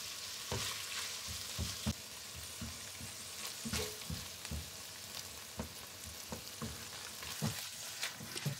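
Lamb meat browns in a pot with a soft continuous sizzle, broken by a series of irregular knocks and scrapes from stirring, fairly quiet and close, with no talking.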